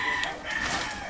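A rooster crows once, fairly close and loud, in a rural Philippine yard with chickens, over steady outdoor background noise.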